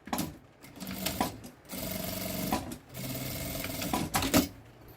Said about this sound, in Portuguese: eu vou passar uma costura com um pé de máquina